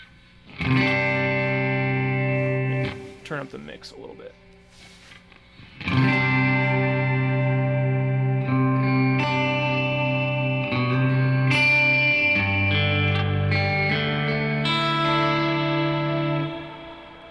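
Electric guitar chords ringing out through a thick, shimmering modulated reverb with long swelling tails, after a brief spoken remark at the start.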